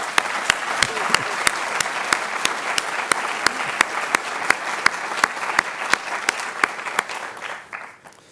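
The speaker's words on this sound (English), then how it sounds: "Let's give him a round of applause, please." An audience claps at a university talk, a brief burst of applause with some sharp individual claps standing out above the crowd, tapering off near the end.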